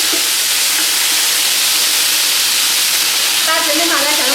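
Doubanjiang bean paste dropped into hot oil, a loud, steady broadband sizzle and hiss that fills the whole stretch, with a brief chirpy tonal sound near the end.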